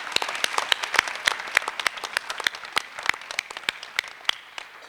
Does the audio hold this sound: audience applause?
yes